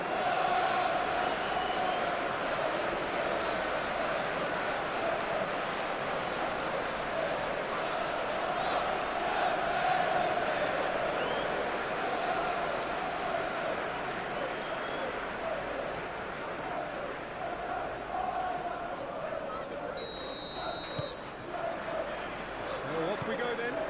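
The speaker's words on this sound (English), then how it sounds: "I hope that the crowd demand as much as they can get" Simulated stadium crowd at a PES 2021 Champions League football match, Newcastle United against Barcelona: a continuous broad roar and murmur of fans that holds steady throughout, with a voice talking over it.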